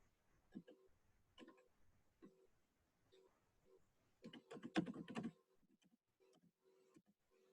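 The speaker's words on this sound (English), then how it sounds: "trying to type this in" Irregular bursts of keyboard typing, close up, with scattered keystrokes, a denser flurry of clicks in the middle, then sparse taps.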